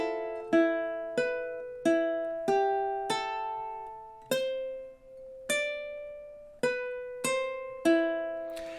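Ukulele picks out measures 21 and 22 of the Exorcist theme: about a dozen bright plucked notes in steady time, each ringing and decaying, close and alone without speech.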